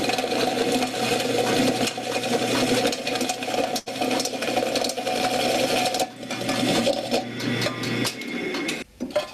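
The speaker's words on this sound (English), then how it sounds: "Once you have the initial hole drilled, you want to enlarge the hole for the size of the dowel that you're using." A drill enlarging a hole in wood for a dowel, a continuous loud whirring drone that holds steady for several seconds, briefly drops out, then resumes before trailing off near the end.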